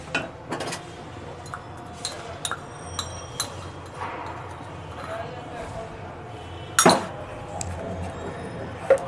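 A spoon stirs a thickening jaggery mixture in a pan over a low flame while making patishapta pitha, giving scattered light metallic clinks and soft scrapes against a low background hum.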